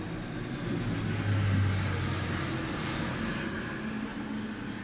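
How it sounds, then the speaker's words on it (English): A low-flying airplane in Final Fantasy 14 passes with a steady droning engine roar that swells briefly and then holds, heard alone without talk. "Another plane."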